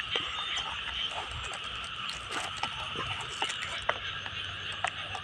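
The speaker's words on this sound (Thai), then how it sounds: "เสียงกบเสียงเขียด สวยงามมากเลย" Frogs croak in a rural morning outdoors, a steady chorus of many calls layered with insect-like buzzing, moderately near and continuous without pause.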